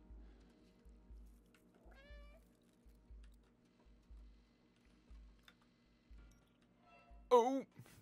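Cat meowing in the video game Stray, two short meows, the second louder and more drawn out, over a quiet rhythmic low pulse and faint keyboard tapping.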